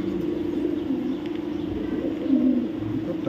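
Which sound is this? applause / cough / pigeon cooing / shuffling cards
pigeon cooing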